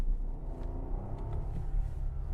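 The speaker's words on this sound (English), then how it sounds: "I will say the exhaust doesn't sound all that great in this car." A 2022 Rolls-Royce Ghost's V12 exhaust in low gear produces a steady, muted low rumble heard from inside the cabin, smooth and subdued with no voices over it.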